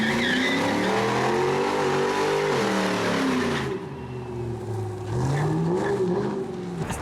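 A Ford Mustang engine drones steadily as it drives, pitch rising and falling with gear changes and acceleration, heard up close.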